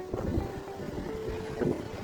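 Wind blows outdoors on a steep, dusty uphill road, buffeting the microphone with a low, steady rumble and a few stronger gusts, with no talking.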